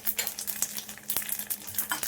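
Curry leaves and a red Byadgi chili crackle in hot oil for a tempering, a steady close sizzle with sharp pops and spits scattered throughout.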